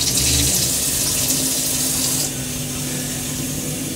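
Water runs steadily from a tap aboard a sailboat during a refit, a close, even hiss of flow that drops to a quieter, softer stream partway through.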